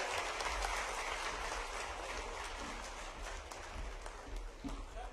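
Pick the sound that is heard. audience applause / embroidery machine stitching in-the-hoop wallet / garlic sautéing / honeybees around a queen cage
audience applause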